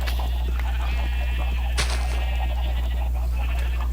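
Blocky video-game sheep at a Minecraft-style automatic wool farm bleat in a few wavering calls over a loud, constant low hum.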